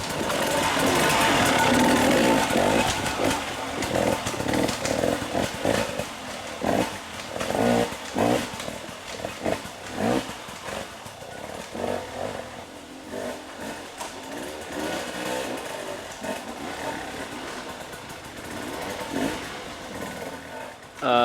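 A dirt bike on a motocross practice track at Wellsville, its engine revving and roaring in waves from nearby as the rider runs laps, loud throughout with no voices.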